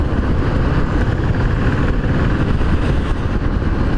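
A Royal Enfield Continental GT 535 café racer engine drones steadily and close by on a highway, a constant buzzing rumble with no pauses and no voices.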